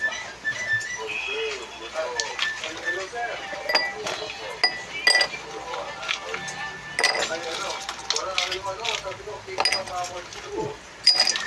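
Ice cubes clinking into a glass while preparing an iced Milo latte, a run of bright, close clinks and knocks scattered throughout, with someone talking over them.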